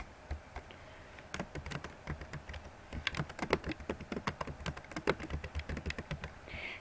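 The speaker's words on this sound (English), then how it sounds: "So I choose my font, and I go ahead and type." Rapid keystrokes on a computer keyboard while text is entered, a steady run of sharp clicks that grows denser and slightly louder toward the end, heard close up with no voices.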